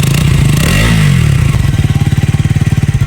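Motorcycle engine starting up and pulling away, a loud close rumble with scraping clatter that settles into a fast, even pulsing putter as the bike rides off.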